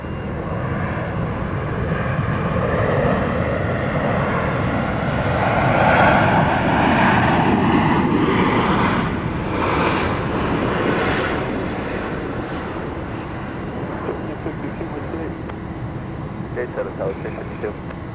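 Airliners at Dallas Love Field airport, home of Southwest Airlines, with a steady broad engine roar that swells and fades across the scene while people talk over it and radio chatter comes through.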